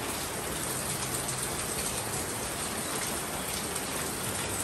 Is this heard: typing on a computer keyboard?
no